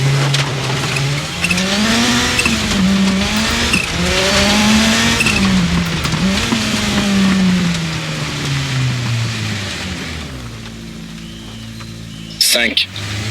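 Engine of a Citroën Xsara WRC rally car in Assetto Corsa, racing along a rally special stage, revving and shifting loudly and continuously, fading near the end into a brief clunk.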